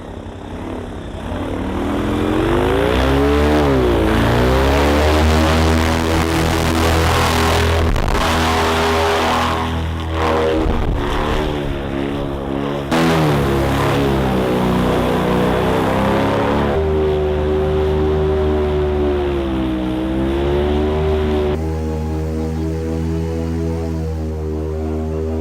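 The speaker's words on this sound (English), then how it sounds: "This might not do it justice, but we're about to take this airboat" An airboat engine with a large propeller runs on snow, giving a loud, continuous droning roar whose pitch rises and falls as the throttle changes over a long stretch.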